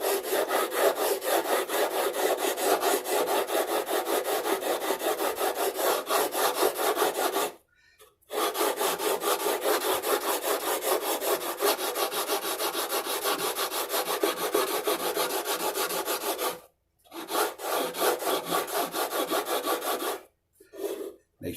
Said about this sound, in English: Make sure that all the tops of the frets are being hit by the sanding block.